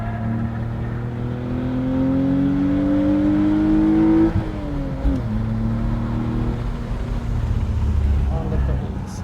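A race car engine revs higher and higher under hard acceleration on track at Sonoma Raceway, then drops sharply at a gear change and climbs again, heard from inside the car.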